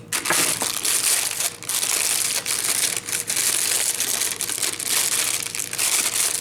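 A plastic bag crinkles and crunches loudly and continuously up close while a BM800 microphone is unboxed, with brief pauses between handling bursts and no talking.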